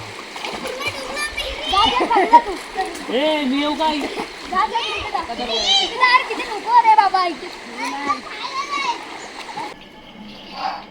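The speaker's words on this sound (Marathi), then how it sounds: "आज सकाळी आम्ही भाऊजींसोबत नदीवर आलो पोहायला" People swim and splash in a river, with water sloshing close by under continuous chatter from children and adults.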